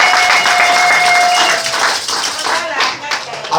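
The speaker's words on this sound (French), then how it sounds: "Sur votre acclamation, s'il vous plaît." Wedding guests applaud a bride and groom during a bilingual French and Italian nuptial blessing in Switzerland's Ticino, loud close clapping from a crowd mixed with a sustained tone and some voices, tapering slightly toward the end.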